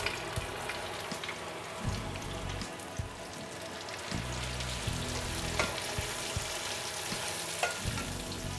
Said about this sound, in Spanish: en el mismo aceite incorporamos las verduras para que se pochen un poco